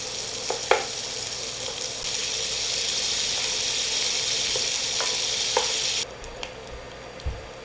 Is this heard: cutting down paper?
no